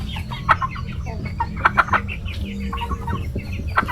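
Three-month-old chicks cluck and chirp in short bursts close by, with several birds calling over a low rumbling background.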